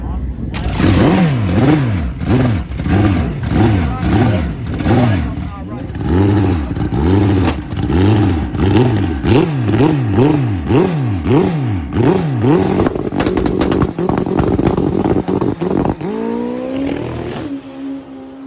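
An old school Kawasaki KZ drag racing motorcycle revs hard and close in a fast series of rising and falling bursts, then settles into a rougher, uneven idle with a few sharp blips near the end.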